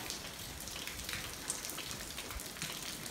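Steady rain beats on surfaces around stacked goods at an open-air market, a faint, even patter of raindrops that runs without pause and without any voices.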